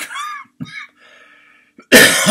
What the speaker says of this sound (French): la toux est toujours là